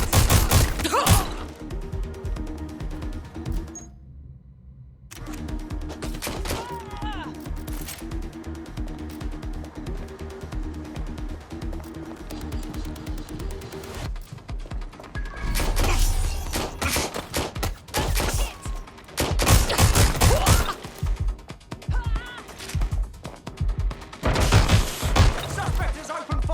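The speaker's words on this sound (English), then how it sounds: "Suspect has opened fire!" Gunfire in Watch Dogs Legion, with dense bursts and heavy thuds rattling over a steady game music bed, some stretches loud and crowded with rapid shots, others sparser, plus a short near-silent gap early on.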